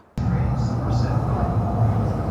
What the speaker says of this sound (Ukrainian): Ми на станції метро Шинук йдемо в мол